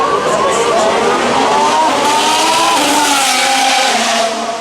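Race cars at Singapore Grand Prix practice screaming past on the circuit, a loud, continuous high-revving engine roar with rising pitch sweeps as gears shift.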